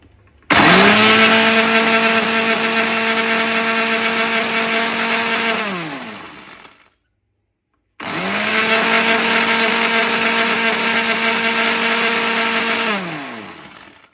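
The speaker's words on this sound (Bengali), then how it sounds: "এখন আমি ব্লেন্ডারের ঢাকনাটা আটকে ব্লেন্ডারের উপর বসিয়ে দিলাম" An electric blender grinds crispy dried sea fish into homemade cat food in two loud, close bursts of steady motor whine, each winding down as it is switched off, separated by a short silence, with no talk.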